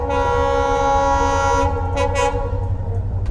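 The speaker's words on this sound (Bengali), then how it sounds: "আমাদের সামনে দিয়ে যাচ্ছে ট্রেন" A train rolls past at the Sevoke railway crossing near Sevoke bridge, a steady close rumble of wheels and cars with layered tonal hum, continuous and loud throughout, with no talking.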